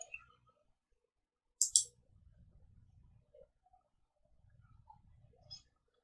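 Two quick computer mouse clicks land close together near the middle, sharp and crisp against an otherwise quiet room, with a low murmur of voice-like sound around them.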